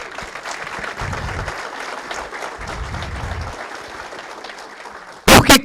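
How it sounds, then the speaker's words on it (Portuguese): Audience applause at a Portuguese-language talk on a new way of living, steady clapping throughout with low thumps mixed in, closing with a sudden loud burst at the end. "Palmas."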